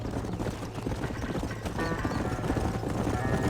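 Horse hooves clip-clop at a gallop in the Western game Red Dead Redemption, a steady rapid patter under a dense mix of game sound and a brief voice.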